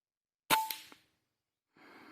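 A single cartridge is test-fired, a sharp close report with a brief ringing tail followed by a smaller echo, then quiet before a soft rustling noise.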